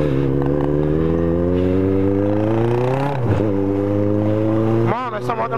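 A Yamaha XJ motorcycle engine drones steadily up close, then revs sharply twice, its pitch rising and dropping with each throttle burst.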